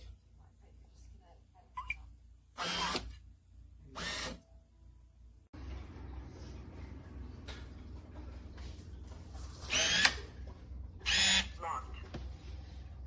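A DESLOC B200 smart deadbolt lock locking, with several short mechanical motor whirs close by, some quiet and others sharp and loud, with a spoken word in between and background noise in the later part.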